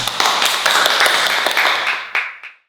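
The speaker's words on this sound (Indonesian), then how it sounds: "Tepuk tangan" Applause in a micro-teaching classroom practice session on combined prayer, dense clapping from a group of students, fairly close and steady, tapering off with a few last claps near the end.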